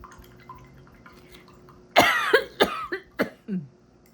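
A person with a cough has a short fit, a quiet room giving way to a sudden harsh cough followed by four or five smaller, spaced coughs that gradually weaken.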